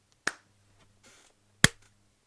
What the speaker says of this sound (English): Just clap once.